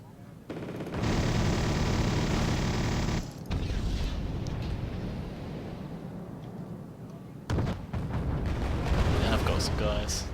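Units in the real-time strategy game Wargame AirLand Battle fire their weapons, a dense, continuous roar of gunfire and explosions with rumbling bursts and crackling shots throughout.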